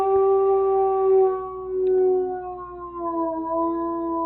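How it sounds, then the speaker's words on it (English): A wolf lets out a long, clear tonal howl close by in a pen, the pitch sliding and wavering over several seconds with no other voices. "Grayson coming in, going to let out a little bit of a howl."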